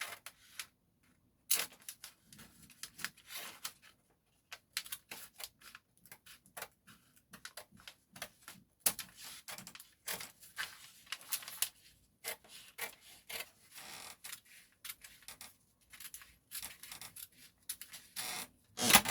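Scissors cutting through a folded paper skirt pattern, giving soft rasping snips and paper rustles in an irregular rhythm, close and quiet with no talking.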